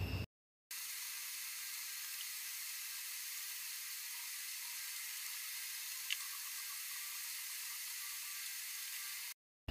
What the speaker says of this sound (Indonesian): Ini nugget mie dan kornet sapinya kita goreng sampai mateng ya.